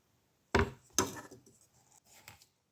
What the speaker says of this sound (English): use this immediately and just mash this to some kind of, well, mash